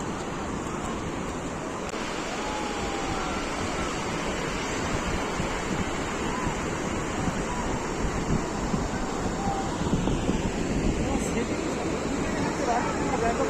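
Sea waves washing onto the beach at Digha, a steady broad surf roar with wind buffeting the microphone throughout, constant and fairly close.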